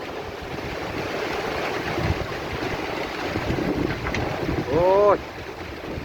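Strong wind and storm noise roar steadily across the whole stretch at a fairly loud level, with a brief vocal exclamation near the end.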